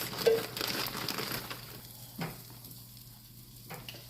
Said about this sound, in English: right here in the skillet, I'm about to add me some peppers and onions.